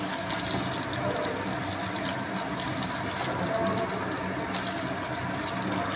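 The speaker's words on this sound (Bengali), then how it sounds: "আলুটাকে ভালো করে আমি লাল লাল করে ভাজতে হবে" Potatoes frying in oil for a watermelon-rind curry, a steady broadband hiss and crackle that stays even and fairly loud throughout, with no talking.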